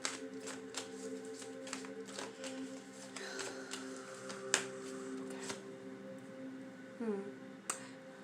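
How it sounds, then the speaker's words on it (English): Quiet, crisp riffling and flicking of cards in a series of quick shuffles, with a faint steady hum beneath. "I'm just going to give these a quick shuffle"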